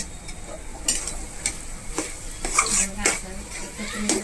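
Kacchi dabeli filling being mixed with salt, close scraping and clinking of a spoon against a pot in quick irregular strokes, with faint talk in the background.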